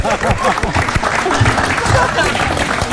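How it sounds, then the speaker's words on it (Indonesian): Applause from a live television studio audience, dense and continuous, with people talking and laughing over it throughout. "Kita berikan tepuk tangan"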